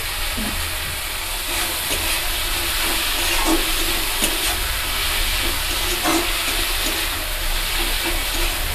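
Ginger with chopped tomatoes cooks in a kadai, producing a loud, continuous frying hiss that stays even throughout with faint clatter underneath.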